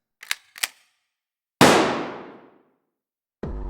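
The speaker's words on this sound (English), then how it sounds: "I shot at it." A single sharp gunshot cracks out loud and close, then rings away over about a second, preceded by two quick metallic clicks and followed by silence and a fresh sound at the end.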